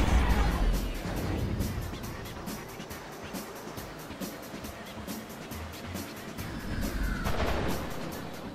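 Rockets fire in the futuristic PSP racing game WipEout Pure (2005). Loud bursts open and close the stretch over a steady, dense rush of engine and track noise, with a rising swoosh near the end.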